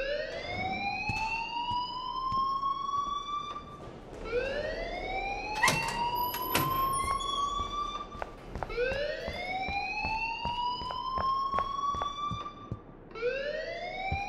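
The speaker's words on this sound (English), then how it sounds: "please turn off that alarm since that's your job." A rising, whooping electronic alarm in the video game Life is Strange repeats in long sweeping cycles, fairly quiet and continuous, with sharp clicks and knocks scattered between the wails.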